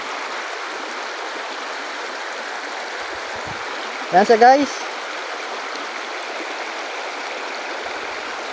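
Steady broadband rush of a flowing river stream throughout, with a brief spoken phrase in Filipino in the middle.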